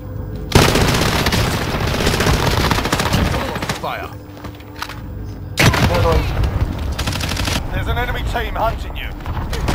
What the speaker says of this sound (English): I fucking hate that 3-round burst